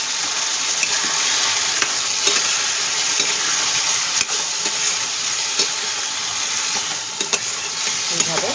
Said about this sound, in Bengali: এবারে বাটা পালংটাকে দিয়ে দেবো।